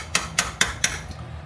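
Four evenly spaced sharp clinks of plates being taken out and knocked together in a home kitchen, crisp and close, with no talking.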